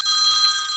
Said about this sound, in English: now my phone rings once again